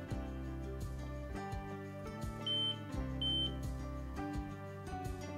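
A gas monitor from the 04 series sounds two short, high electronic buzzer beeps at power on, set apart from each other over steady background music.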